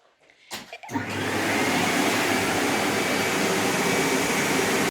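After a few bumps and clicks, a vacuum cleaner switches on and settles into a loud, steady whooshing roar that continues without pause.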